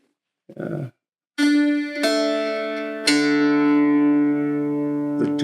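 Sustained plucked or bowed notes ring from a handmade string instrument of Honduras mahogany and red sassafras from Tennessee, starting after a short soft sound and a pause, with strong, long-held tones and a second attack midway that slowly decays.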